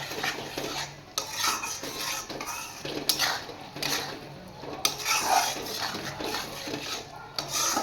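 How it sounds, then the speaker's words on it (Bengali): A utensil stirs tomato paste in a pan of spiced fish curry masala, scraping and clinking against the metal in steady uneven strokes with a faint sizzle underneath. "টমেটোর পেস্টটা দিয়ে আমি ভালো করে নাড়বো"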